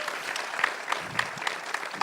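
An audience at a Q&A for the film Lost River applauds, a short burst of scattered clapping with sharp individual claps standing out.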